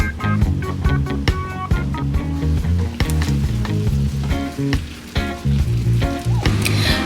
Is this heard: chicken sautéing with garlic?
yes